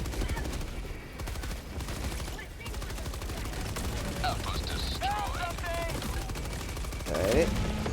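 Bursts of rapid gunfire and explosions from Helldivers 2 crackle at moderate volume, with scattered impacts and mechanical noises over a continuous busy battle din, while someone talks over parts of it.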